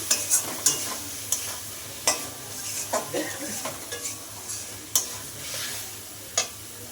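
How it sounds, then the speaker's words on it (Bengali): Fish masala with turmeric being sautéed in a pan for a rithe fish curry, with a soft sizzle underneath and sharp scraping stirs and spoon taps on the pan at irregular intervals, moderately close. "হলুদ দিয়ে দিচ্ছি পরিমাণ মতন এবার আবার আরেকটু কষিয়ে নেবো"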